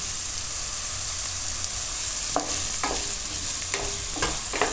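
Green chilies and potatoes fry in a pan with a continuous close sizzle, joined midway by several crisp scraping and clinking strokes from stirring, no voices.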